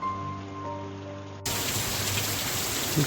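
A quiet tonal stretch gives way abruptly to heavy monsoon rain in a village, a loud, dense, continuous roar of drops striking surfaces nearby for the rest of the moment.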